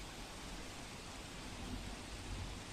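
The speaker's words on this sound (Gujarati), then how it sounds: "વલસાડ જિલ્લામાં વહેલી સવારથી ધોધમાર વરસાદ વરસી રહ્યો છે" Heavy downpour since early morning in Valsad district, with an underpass waterlogged, heard as a steady, dense, close wash of hiss that holds evenly throughout without pause.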